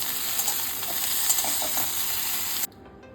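Vegetables sizzling in hot oil in a wok for Bengali shukto, a steady bright hiss with light stirring ticks, close and alone, cutting off abruptly near the end.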